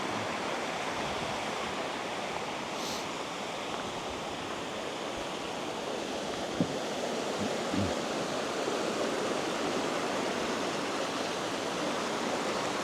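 A steady, broad rush of flowing water from a small, clear mountain stream on the Puy de Sancy volcano in France, constant and enveloping, with no voices.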